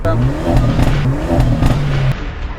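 A Hyundai Avante N engine revs up close, with sharp crackling pops bursting from the exhaust over the steady roar.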